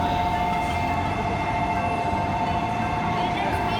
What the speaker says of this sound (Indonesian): Kami akan menggunakan Shinkansen yang merupakan kereta cepat yang dimiliki oleh Jepang